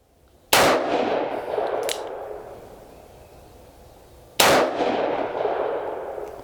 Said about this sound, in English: close the cylinder up, and we're gonna do 3 shots single action